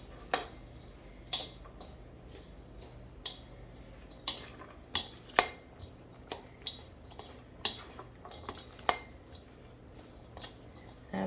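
A spoon stirs macaroni salad seasoned with salt and pepper, giving sharp clicks and taps against the bowl at uneven intervals over a quiet, low background hum, close but fairly soft.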